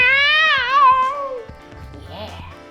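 A voice imitates a cat's meow: a loud, close, drawn-out mewing call with a wavering pitch, then a shorter, softer meow-like sound trailing after it.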